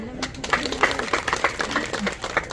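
Women at a Women's Day event give a brief round of scattered clapping that sounds light and fairly distant, with voices murmuring in the background.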